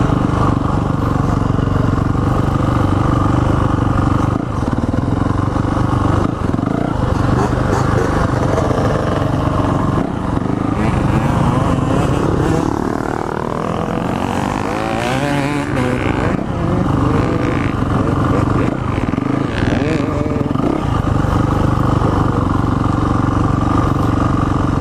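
A Yamaha mini motorcycle ridden by a child at a ride day buzzes with a loud, close, continuous small-engine drone, revving and easing off repeatedly over clattering.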